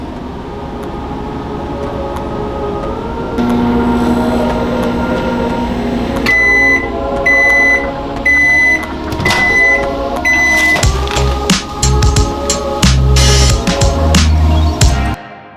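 A microwave oven running on its popcorn button setting, with a steady hum, repeated electronic beeps and a busy, rising crackle of kernels popping close by, no talking.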